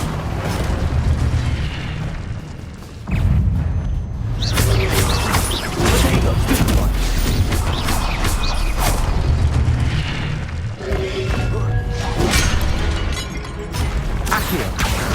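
Incendio fire spell cast in Hogwarts Legacy, erupting as a loud booming burst of flame over a dense layer of game sound, with repeated blasts that flare and subside throughout.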